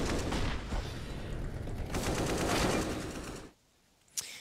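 AK rifle fire in a CS:GO match on Dust 2 rattles in dense, overlapping bursts for several seconds, then cuts to near silence broken by one last sharp shot.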